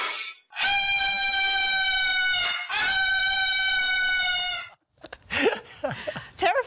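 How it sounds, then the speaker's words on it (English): A parrot lets out two long, loud, harsh screeches close by inside a home, followed by a burst of rough, agitated squawks and chatter. "The screeches from this bird scaring away the intruders"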